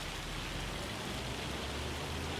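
Rain falls in the farming game Farming Simulator, a steady, even hiss of dense rainfall at moderate level, without voices.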